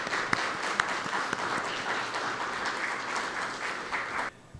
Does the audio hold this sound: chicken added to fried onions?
no